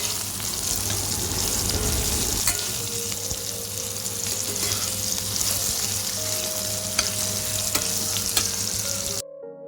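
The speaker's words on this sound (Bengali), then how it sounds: "ভালো করে ভেজে নেব।" Cumin powder, turmeric and salt fry in a pan for mango chutney, a continuous close sizzle with occasional stirring taps, cutting off abruptly at the end.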